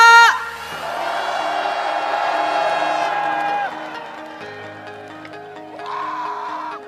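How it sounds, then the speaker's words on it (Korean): A large crowd at a political rally cheering and shouting, loud at first then tapering, with sustained whoops rising over the roar. "여러분 커다란 함성 부탁드립니다"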